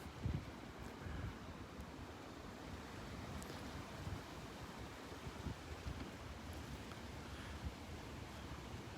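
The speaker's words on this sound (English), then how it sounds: "It's going to be windy when we walk up the beach" Wind on the beach at Delnor-Wiggins, a constant low rumble buffeting the microphone, blended with a soft wash of surf, steady with no pauses.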